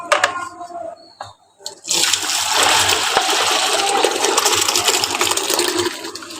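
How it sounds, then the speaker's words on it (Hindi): A homemade herbal shampoo mixture is poured into a wok, starting with a few soft splashes, then turning into a loud, steady rushing gush of liquid close by. "अब हम इसे कढ़ाई में शिफ्ट कर रहे हैं।"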